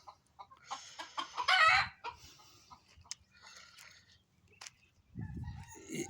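Several chickens cluck in bursts, louder near the start, then quieter scattered calls and a rooster's crow amid farmyard noise, on a foggy early morning in Abdali, Kuwait.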